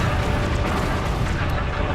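A loud, sustained explosion rumble in a Tomb Raider level editor game, a dense booming roar that fills the whole moment without pause.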